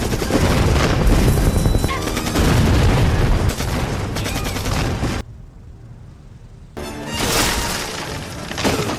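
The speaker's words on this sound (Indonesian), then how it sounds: "Akibat ledakan bom itu," Bomb explosion in a film scene, a dense roar of blasts and crackling debris, then a sudden drop to near silence before another burst of rumbling impact noise.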